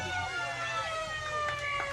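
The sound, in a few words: siren sounding for half time at a football match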